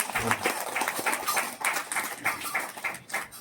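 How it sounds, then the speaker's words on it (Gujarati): A small audience at a church thanksgiving meeting for a newborn claps in a brief burst of scattered, uneven applause, with voices mixed in. "સર, આપણે બધા માટે તાળી પાડીશું."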